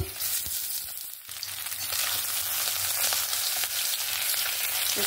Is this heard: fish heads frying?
yes